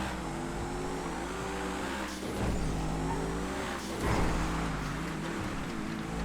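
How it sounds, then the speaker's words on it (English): The Adder sports car in GTA FiveM drives with a steady engine drone and a couple of brief surges in revs, heard alone at a constant, close level. "The adder is such a good car."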